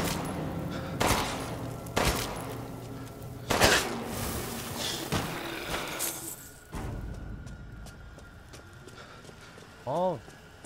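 Gunfire in Resident Evil Village: several loud broadband shots and volleys over the first seven seconds, with horse-like clip-clop and a shouting voice mixed in, then quieter game ambience and a brief rising warble near the end.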